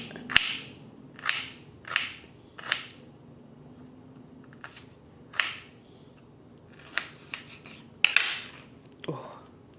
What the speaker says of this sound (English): And so I'm going to cut it.